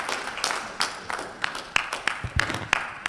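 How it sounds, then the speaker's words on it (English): Sparse applause from the audience at a Veterans Braintrust event, a handful of separate claps popping out over a faint room murmur rather than a full ovation. "Can we give him a round of applause?"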